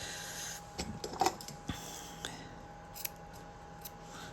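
Scissors snip embroidery thread in a few quick, close clicks, followed by quiet handling sounds in a calm room.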